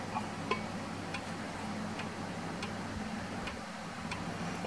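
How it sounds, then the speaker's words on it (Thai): An antique pendulum wall clock ticking at a steady, even pace, soft and close over a faint background hum. "เวลาแกว่งนะครับสังเกตด้วยนะครับว่าจะมีเสียงเดินติ๊กต๊อกติ๊กต๊อกติ๊กต๊อก"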